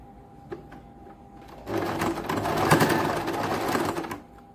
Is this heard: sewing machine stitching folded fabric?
yes